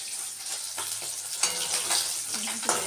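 Fish fries in oil in a pan with a continuous, hissing sizzle, with a few louder crackles and pops on top, heard up close.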